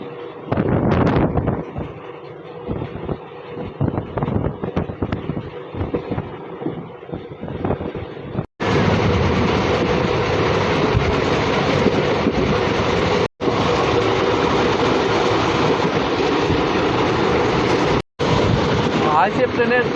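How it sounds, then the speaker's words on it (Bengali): Indian Railways passenger train with ICF coaches running between Katwa and Ahmadpur, heard from on board as a loud, steady rumble with wind buffeting and rattling, rising to a harsher, broader roar partway through, broken by brief cuts. "আইসিএফ ট্রেনের কোচের চেপে মজাটাই আলাদা, যতই এলএইচবি আসুন।"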